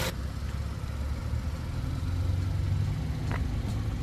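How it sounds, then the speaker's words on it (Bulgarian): A 2014 facelift Hyundai ix35 1.6 GDi 135 hp petrol engine with a six-speed gearbox idles steadily, giving a smooth, even low hum from start to finish with no talking. "Мотора работи чудесно."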